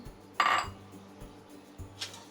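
Roasted vermicelli is tipped into a pan of ghee, giving a short clattery rustle and a light metallic clink, with faint low hum and quiet stirring around it.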